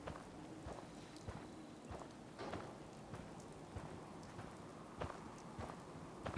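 Rain in the video game Fallout 4 falls as a soft, steady patter with scattered heavier drops and faint thuds, quiet and continuous throughout.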